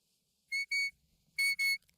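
A shepherd's herding whistle command to a sheepdog during live herding work: two paired shrill, tonal blasts, each pair made of two short notes, clear and fairly close against a quiet outdoor background.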